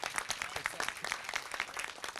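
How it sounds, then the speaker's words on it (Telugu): An audience at a film event applauds the actor Kishore with dense, continuous clapping that stays full and even, close and fairly loud, with a faint crowd murmur underneath. "క్లాప్స్ కొట్టండి కదా ఒకసారి కిషోర్ అన్నకి."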